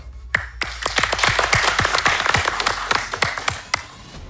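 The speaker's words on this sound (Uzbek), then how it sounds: "qarsak" Studio audience applauding at a startup pitch show, a burst of many crisp overlapping hand claps, fairly close and steady for several seconds before thinning out.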